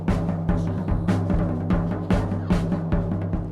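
Synthy pop song, a steady rhythmic beat with punchy drum hits and layered synth and melodic lines, played loud and close with no talk.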